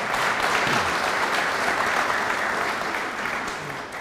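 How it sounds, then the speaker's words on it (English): A crowd at an interview event gives a big round of applause, sustained and full for several seconds before tapering slightly toward the end. "I think he deserves a big round of applause,"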